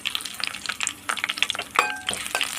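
Sliced green chillies frying in hot oil in a pan for a mushroom curry, giving a bright crackling sizzle with irregular spits and pops, close and fairly loud, no voices.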